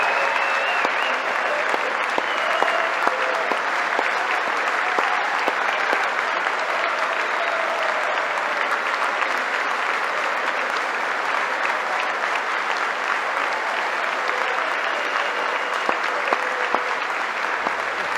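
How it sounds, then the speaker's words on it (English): A large audience applauds Rush Limbaugh at a formal address, with dense, steady clapping sustained throughout at a loud, even level, with no talk over it. "you see in the background, nasty Nancy Pelosi not even clapping for the man"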